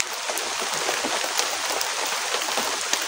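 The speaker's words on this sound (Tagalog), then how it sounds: "Ang ulan, lumalakas ang ulan." Heavy rain growing stronger, a dense, continuous hiss of drops striking surfaces all around, steady and close with scattered sharper splatters and no voices.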